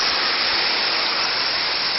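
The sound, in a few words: small waterfall in Costa Rica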